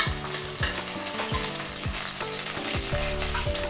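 Whole spices, bay leaves, cloves, cardamom and cinnamon, fry in hot mustard oil with a continuous loud sizzle, heard up close beneath tonal background music.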